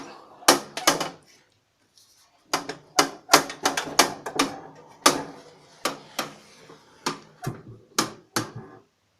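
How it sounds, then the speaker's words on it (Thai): Someone shuts and handles the door of a coin-operated laundry detergent and fabric softener vending machine. Sharp metallic clacks and knocks come close by, in irregular bursts with brief pauses between them. "เสร็จแล้วก็ปิดปิดประตูนะครับ"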